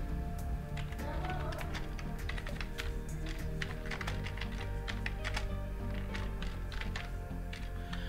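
A computer keyboard clicks in rapid, irregular bursts as a supplier address is typed into a purchase order form, with soft speech faint in the background.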